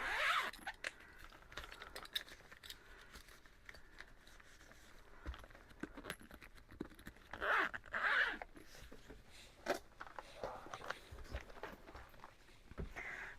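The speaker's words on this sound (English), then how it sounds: "there's a zipper in the back" Zipper on a colored pencil case is pulled in several quick, rasping strokes, close and crisp, with pauses and soft handling noises between the runs.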